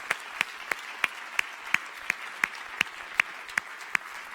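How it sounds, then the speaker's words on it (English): A lone set of hands claps in a slow, even rhythm, about a dozen crisp beats each roughly a third of a second apart, fairly close over a quiet room, during a science communication competition final in the UK. "So can we speed them on away, please, with some applause?"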